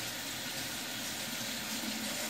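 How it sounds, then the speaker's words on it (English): Lemons are rinsed under a running kitchen tap, giving a steady, close hiss of flowing water with no pauses and no talking. "I'm going to wash these lemons"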